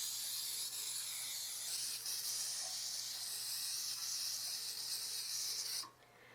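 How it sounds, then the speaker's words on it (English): Cooking spray with flour already mixed in, sprayed into 8.5 by 4.5 by 2.5 inch loaf pans: a close, steady hiss lasting about six seconds, then cutting off abruptly. "So what I'm going to do is take some cooking spray."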